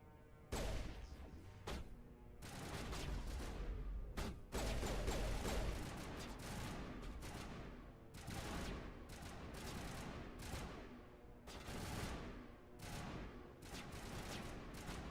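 Rapid, loud bursts of gunfire from the Mass Effect video game, dense volleys and fusillades that nearly fill the whole stretch, broken by a few brief pauses.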